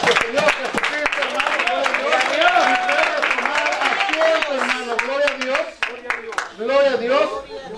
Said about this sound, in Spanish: Denle un fuerte aplauso a nuestro Señor